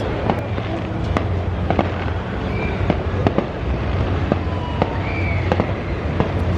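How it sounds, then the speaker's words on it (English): Fireworks pop and crackle in rapid, irregular bursts at a distance at the North Carolina State Fair, with occasional whistles, over a constant crowd-like roar. "at the end of the show that people paid to see, they're putting off the fireworks"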